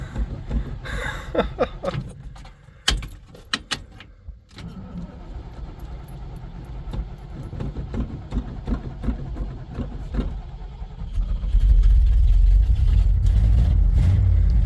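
The engine of a 50 year old Ford camper cranks and catches, then runs rough and grows louder toward the end, with jangling keys and knocks nearby.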